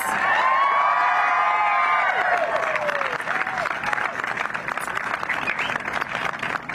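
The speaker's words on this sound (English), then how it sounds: "Let's give them a round of applause" Loud crowd applause and cheering at an outdoor anti-gun rally in DC, with whoops and shouts over dense clapping that carries on throughout.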